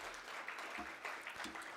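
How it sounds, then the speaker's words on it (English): An audience at a government ministry live-streamed event claps steadily but faintly while a presenter walks to the podium, with a voice faintly audible beneath it. "can we give her an applause while she makes her way to the podium?"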